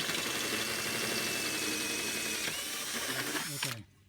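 A drill bores holes through a snap-in pipe for a passive vertical grow tower, a steady close whirring grind with a ratcheting mechanical texture that runs continuously before cutting off abruptly near the end.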